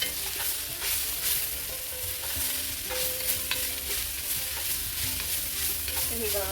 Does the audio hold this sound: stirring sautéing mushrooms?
yes